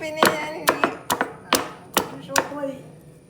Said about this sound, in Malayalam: കിണറ്റിലിട്ട് ആരെങ്കിലും വെളുത്തുള്ളി ചതയ്ക്കോ അമ്മിണിക്കുട്ടി?